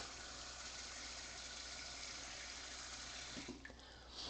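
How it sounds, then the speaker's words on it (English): Tap water runs steadily into a sink being filled to soak a potted orchid in bark medium, a continuous close rushing gush that eases and changes near the end. "take them to the sink, and almost fill it with water"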